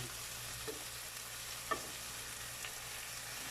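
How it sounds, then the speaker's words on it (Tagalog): Bean sprouts and corned beef are stirred in a pan for a Filipino guisado, a faint steady sizzle with a couple of soft spatula scrapes. "hahaluin natin. Sabay ilagay na natin ang toge guys."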